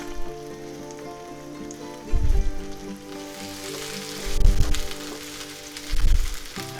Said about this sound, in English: Now we want to cook these until they're tender and the onions become a little translucent